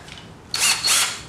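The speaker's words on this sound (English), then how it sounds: "or you can use a drill press, but I just use a screwdriver" Power screwdriver fitted with a drill bit boring holes into a scooter deck, two loud high-pitched whirring bursts back to back after a brief quiet moment, close up with no talk.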